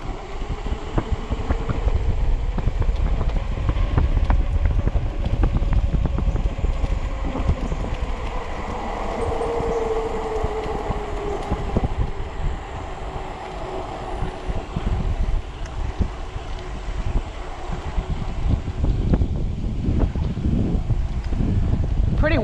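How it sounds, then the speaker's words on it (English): Strong wind buffets the microphone during an e-bike ride on a greenbelt loop, a loud, continuous rushing roar with gusty swells and low rumble throughout, without any talking. "Pretty windy today."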